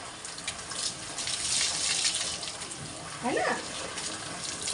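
Water runs and splashes steadily from a tap while a pet named Suji is bathed during hot weather, with a brief spoken voice over the gushing.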